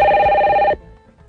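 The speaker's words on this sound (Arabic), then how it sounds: "جاوبي جاوبي على التليفون" A telephone bell rings loudly and close by in a Moroccan radio drama scene, one steady burst of ringing that stops abruptly partway through and leaves a quiet room.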